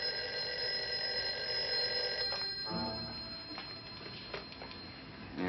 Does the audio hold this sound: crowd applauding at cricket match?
no